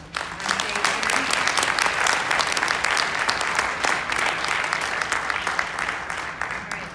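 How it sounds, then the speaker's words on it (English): Audience applause at the close of a winter choral concert by Rosary and Marmion, a dense, steady wash of clapping that swells quickly and holds for several seconds before slowly thinning. "So one last round of applause for everybody."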